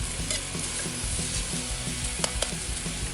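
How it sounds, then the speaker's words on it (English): Lomo saltado sizzles and crackles steadily in a frying pan, a dense close hiss with scattered pops and a few scraping stirs. "you hear that sizzling? How I love the sizzling"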